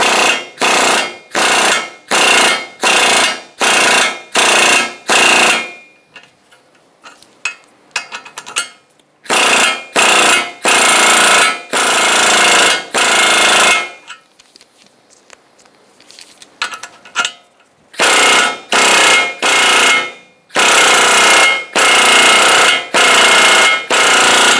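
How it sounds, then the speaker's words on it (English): A pneumatic impact gun presses a front lower ball joint into the steering knuckle of a 2002-2006 Honda CR-V. It fires in loud, close bursts of rapid hammering, with short pauses and two longer gaps between runs. "now I'm going to use my impact gun"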